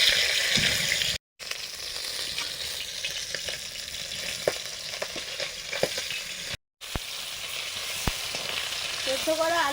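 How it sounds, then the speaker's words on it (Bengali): Fish frying slowly in oil over a low flame, heard as a steady, close sizzle with scattered pops and spatters and a few light clinks, with no talk over it. "এত সময় ধীরে ধীরে কম জ্বালানিতে মাছগুলো ভাজা হচ্ছিল"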